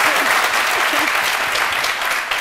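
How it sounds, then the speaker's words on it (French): A studio audience at a midday TV show applauds a producer with loud, continuous clapping from many hands, even and sustained across the whole moment. "Applaudissez un peu pour elle, s'il vous plaît."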